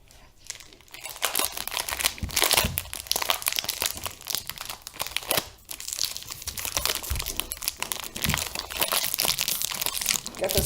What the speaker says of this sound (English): Get this plastic wrap out.